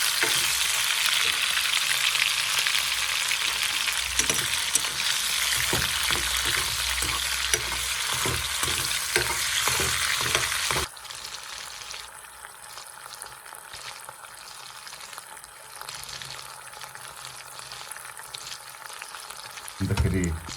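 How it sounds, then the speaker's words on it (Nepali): Chicken frying in a hot pan as a topping for chicken thukpa, a loud steady sizzle with stirring scrapes through the first half, then a quieter, thinner hiss that carries on to the end. "टपिङ्सको लागि चाहिँ यसमा चिकन फ्राई गर्छु है"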